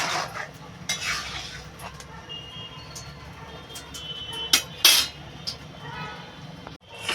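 A spoon stirs an egg and taro curry in a pan, giving soft scraping with a few sharp metallic clinks against the pan over a faint low sizzle.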